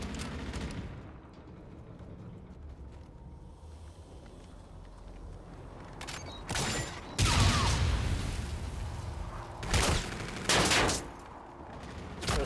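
Gunfire from an esports video game bursts out in several loud, rapid volleys over a low rumbling background, with short pauses between the sharp clusters of shots.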